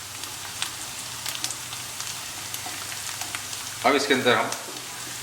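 Onions fry in a pan for a ginger fish dish, a soft continuous crackling sizzle with occasional pops, close by, with someone speaking briefly toward the end.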